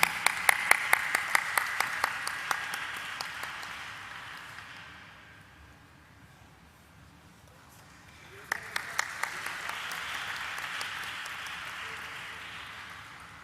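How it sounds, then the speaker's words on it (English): Bursts of crowd applause at a stock exchange listing ceremony for Senco Gold Limited, loud at first, fading to a low murmur, then swelling again with steady clapping near the end. "Please let's give a warm applause to Mrs. Joyita Sen"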